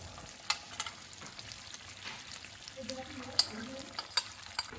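A yogurt mixture is added to onions in a hot pan and stirred, giving a quiet steady sizzle broken by light scraping clicks of the spoon against the pan.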